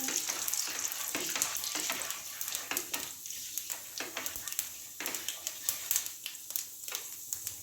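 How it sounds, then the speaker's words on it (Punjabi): Nigella seeds roast in a hot pan over a gas flame, giving a steady crackling sizzle with sharp pops and stirring scrapes that come and go for several seconds. "ਇੱਕ ਚਮਚ ਮੈਂ ਪਾਵਾਂਗੀ ਕਲੌਂਜੀ ਤੇ ਇਸ ਨੂੰ 1 ਮਿੰਟ ਲਈ ਭੁੰਨ ਲਵਾਂਗੀ"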